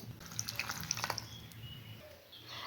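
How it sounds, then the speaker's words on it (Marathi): Broccoli being washed in salted water in a kitchen gives soft splashing and dripping sounds, gentle and fairly quiet, with small irregular splashes and no talk. "आता पाण्यामध्ये मिठाच्या पाण्यामध्ये धुवून घेत आहे"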